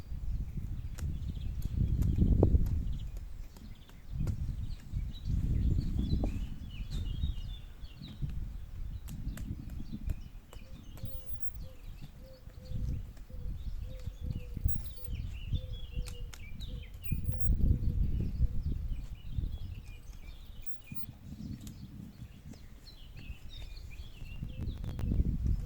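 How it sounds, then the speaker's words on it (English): Birds sing and chirp through an afternoon in a French garden, scattered calls running throughout alongside bursts of low rustling and thumping from garden work, with no talking. "The birds were very vocal that afternoon, as you'll see, or hear,"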